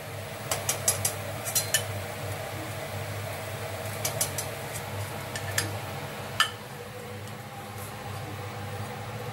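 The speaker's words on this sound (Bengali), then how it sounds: "এরপর আমি একটা করে করে প্লেটে উঠিয়ে নিলাম।" Fried dahi vada being lifted one at a time onto a plate, heard as a string of light metallic clicks and taps from a utensil over a steady fan-like hum, close and without talk.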